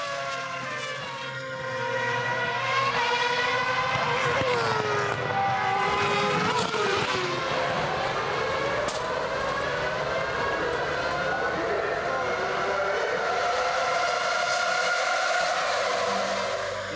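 Formula 1 race cars at the 2006 Malaysian Grand Prix scream past one after another, their high-pitched engines rising and falling in pitch with each pass, loud and continuous.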